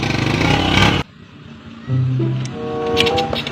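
Motorcycle engine running nearby, loud at first then cutting off abruptly, followed by a lower idle and a brief rise with some tonal whine.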